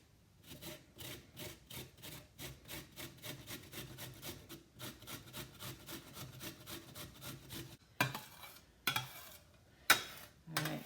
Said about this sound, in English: 1 medium-sized carrot. I'm going to go ahead and grate that.